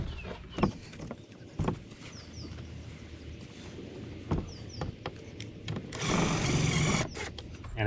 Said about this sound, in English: So we're going to go ahead and get this screwed on.